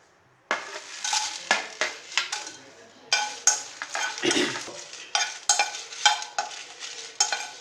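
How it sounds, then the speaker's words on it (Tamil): Dried red chillies roasting in a pan for a chicken masala powder, with a steady run of scraping stir strokes and crackling sizzle, close and fairly loud, no talk. "இப்போ வத்தல் வறுத்துக்கணும்."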